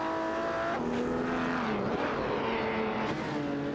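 Race cars in an AI racing video game roar continuously at steady loudness, with engine tones rising and falling as cars overtake one another and brief shifts in pitch as they pass.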